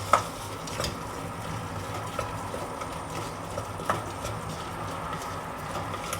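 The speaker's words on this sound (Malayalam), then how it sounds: "എന്നിട്ട് നമുക്ക് നന്നായിട്ട് മിക്സാക്കി കൊടുക്കാം" Chicken and potato rice with garam masala is stirred and mixed in a pan, with a low steady sizzle under scattered spoon scrapes and soft knocks against the pan, close and without talk.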